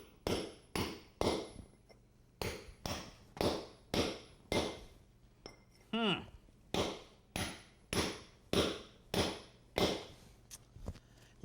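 A cold chisel chips up thin-set brick flooring with steady, loud, sharp hammer-on-chisel strikes, roughly one or two per second, running throughout with only a brief pause partway.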